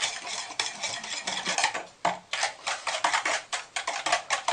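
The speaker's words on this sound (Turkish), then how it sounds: "Şimdi bir adet çırpıcıyla böyle pıt pıt pıt pıt çırpıyorum." A whisk beating milk into trileçe powder mix in a bowl, rapid rhythmic clattering strokes in quick bursts with brief pauses, close and fairly loud.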